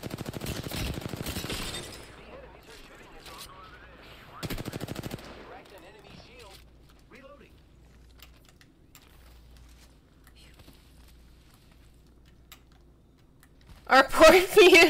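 Bursts of automatic gunfire from the shooter game Apex Legends: a loud rapid volley at the start, a short burst a few seconds later and another sharp burst at the end, with a player's voice talking over the quieter stretches.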